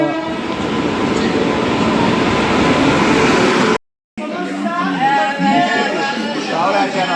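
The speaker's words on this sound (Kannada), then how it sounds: "ನಾವು ಹೋದ ತಕ್ಷಣ ಟ್ರೈನ್ ಬಂತು" A train arriving at Raichur railway station, its steady rumble and rail noise loud and continuous, with a brief gap of silence midway, then wagon clatter resuming alongside faint voices.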